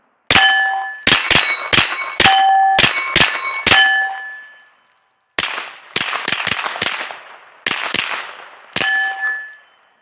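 Sharp, loud gunshots from a Smith & Wesson FPC carbine ring out at an outdoor range, a quick string of about seven shots, a pause, then several more in uneven bursts, each ending in a short metallic ring.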